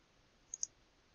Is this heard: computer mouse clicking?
yes